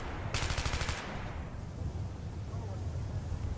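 Gunfire in a Vietnam War setting, a rapid rattling burst early on, then a dense, continuous roar of distant firing and rumble that fills the rest of the clip.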